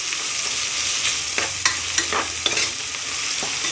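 Mutton curry frying with ginger and turmeric, a loud continuous sizzle with a few quick ladle scrapes and knocks against the pot partway through, no speech.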